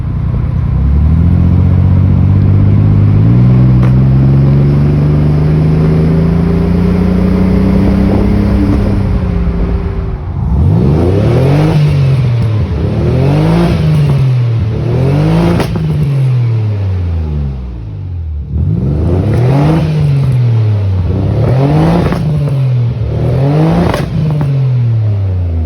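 A Nissan 300ZX engine runs rough while driving, revving up through climbing tones, then surging and bogging in a repeated uneven cycle, loud and close with no talking.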